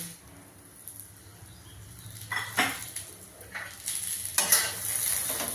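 Coriander seeds, fenugreek, cumin and curry leaves hit hot oil in a pan, bursting into crackling sizzles that swell in waves over a low background hum, with a spoon stirring.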